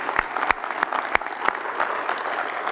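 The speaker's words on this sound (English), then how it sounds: "Keep that round of applause going" Audience applause at a winter sports awards event, with a few sharp, close claps standing out against a softer, steady wash of clapping from the crowd.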